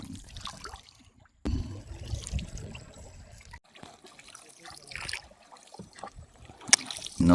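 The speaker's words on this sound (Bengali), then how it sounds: "নৌকা বাচ্ছে দুইজন" Two people row a boat through a flooded mangrove forest, with soft trickles and splashes of oars dipping into the water, quiet and intermittent, and a few sharper splashes near the end.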